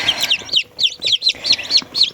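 Newly hatched chicks, just taken from an incubator, peep in rapid high chirps. The calls come in quick repeated bursts close by, with no talking over them.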